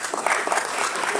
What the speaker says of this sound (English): a couple people are clapping